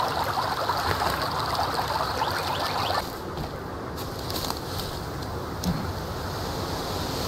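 River water in the survival game Sons of the Forest flows steadily in a broad, unbroken rush, louder for the first few seconds and then settling into a softer continuous trickle, with no voices.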